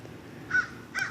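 Two crow caws ring out outdoors near a curbside pile, the first mid-clip and the second just after, clear against a quiet low background.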